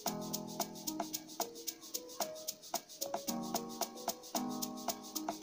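Amapiano bass made in Caustic 3, playing sustained low notes under a driving beat with regular bright hits, loud and steady with no talking.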